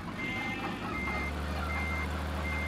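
Truck reversing alarm in the Trucks & Trailers game: a steady high-pitched beep repeating over a low diesel idle rumble, continuous for a few seconds.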